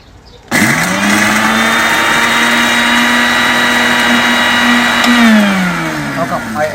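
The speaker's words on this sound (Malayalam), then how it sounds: "നമ്മൾ മിക്സിയിലടിക്കുന്നു" A kitchen mixer grinder whirs as it grinds eggshells. The motor starts abruptly, holds a loud, steady whine for about four and a half seconds, then winds down in pitch as it stops.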